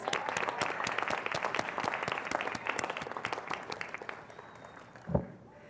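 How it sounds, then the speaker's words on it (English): Graduates and guests at a summer convocation ceremony on a college campus applaud together, a dense crackle of clapping that holds steady, then fades out, ending with one sharp thump. "Round of applause."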